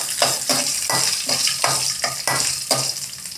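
Ingredients for a red chilli garlic chutney frying in a hot pan while being stirred in steady strokes, a continuous sizzle broken by regular scraping pulses about every half second, close and fairly loud with no voices.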